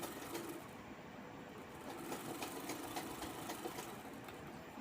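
A sewing machine stitches the back belt onto a blouse, its steady mechanical whir running continuously at moderate level with no talk.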